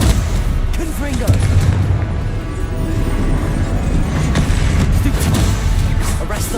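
Spell-casting combat in Hogwarts Legacy: loud, heavy booming blasts and crackling impacts rolling continuously in a busy close-up fight, with a voice speaking over the noise.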